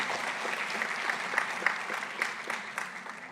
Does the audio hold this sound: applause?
yes